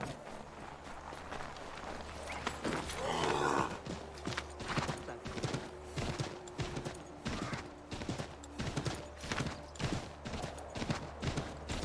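Horse hooves galloping in the Assassin's Creed 3 video game, a steady rapid clip-clop rhythm running throughout over a low ambient hum, fairly quiet.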